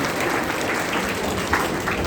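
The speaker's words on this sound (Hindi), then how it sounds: "आपके स्कूल के लिए भी जोरदार तालियां जिन्होंने ये सेशन को यहाँ पर ऑर्गेनाइज किया" Loud, steady applause from a school audience fills the whole stretch, thanking the school for organising a parent association session, with a few sharper claps standing out near the end.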